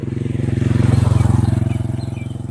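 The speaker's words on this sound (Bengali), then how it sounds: "একটা বাইক আসতেছে, বুলেট, না দেখে বললাম" A Royal Enfield Bullet motorcycle passes on a road, its deep, steady thumping single-cylinder beat swelling as it nears and fading slightly as it moves off.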